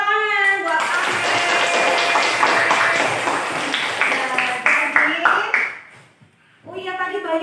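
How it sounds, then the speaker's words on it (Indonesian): A classroom of students claps for a classmate, a dense burst of applause lasting several seconds before fading, with speaking voices just before and after. "tepuk tangan buat Amel"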